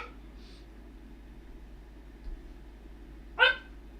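A dog lets out a single short, sharp bark near the end, standing out against an otherwise quiet indoor background with a faint low hum.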